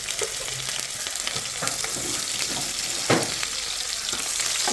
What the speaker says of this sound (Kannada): ಆಮೇಲೆ ಇಲ್ಲಿ ಜೀರಿಗೆ ಫ್ರೈ ಆದಮೇಲೆ ಜೀರಿಗೆ ಮತ್ತು ಬ್ಯಾಡಗಿ ಮೆಣಸಿನ್ಕಾಯಿ ಹಾಕ್ತಾಯಿದ್ದೀನಿ.